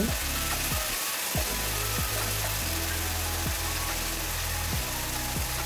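Pieces frying in hot oil in a pan for Bengali dhokar dalna, a steady close sizzle running throughout with periodic dips and bursts as the food is stirred.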